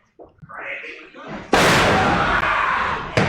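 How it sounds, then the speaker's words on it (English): A wrestler lands a big exploder suplex during a match, and a heavy slam onto the mat is followed by a loud roaring crowd, with commentary briefly heard before the impact. "Big time exploder suplex."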